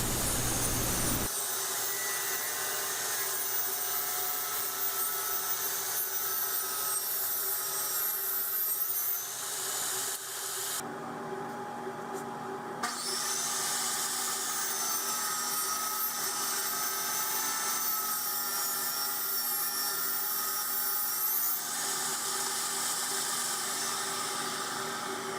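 A table saw with a dust collection chute cuts wood, producing a loud, sustained motor whine and blade roar that holds steady for most of the stretch, with a brief change in tone midway as the cut proceeds.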